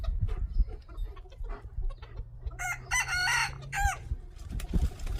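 Farm chickens cluck in short bursts close by while a rooster lets out a loud, drawn-out crow in the middle, over a rumbling outdoor background.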